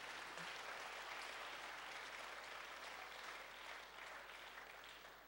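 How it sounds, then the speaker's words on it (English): A church congregation claps hands together at a Wednesday service, a dense, steady wash of applause filling the room from start to finish with no voices on top. "Clap your hands if you love the Lord one more time."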